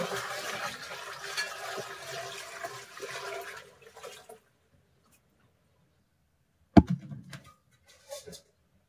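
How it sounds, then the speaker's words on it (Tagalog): Water poured from a bucket into a ceramic toilet bowl, a rushing gush lasting a few seconds that fades out, followed by silence and a few brief gurgles and clunks. "Ibuhos natin tong tubig na nasa timba ngayon dito sa ating dibuhos na bowl"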